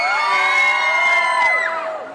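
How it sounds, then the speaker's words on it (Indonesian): At a live cooking demo of char siu puff led by Chef Devina Hermawan, an audience lets out loud, sustained high-pitched shouts and whoops, a close crowd cheer that holds steady and then tapers off near the end. "Tepuk tangannya kecil sambil teriakkan"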